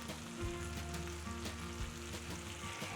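Asparagus spears hit a pan of hot butter and garlic and sizzle steadily and closely, a dense crackling fry that runs unbroken with no voices.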